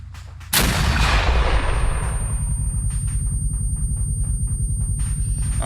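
M3 MAAWS recoilless rocket fired in ArmA 3 during a military simulation training exercise: one sudden loud blast that rolls into a long, heavy rumble and fades slowly.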